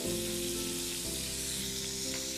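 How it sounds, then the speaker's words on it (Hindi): Ground masala paste hits a hot pan and sizzles loudly and steadily up close, with a faint stirring scrape partway through and no talking. "इसके बाद हम इसमें ये पिसा हुआ मसाले का पेस्ट डाल देंगे।"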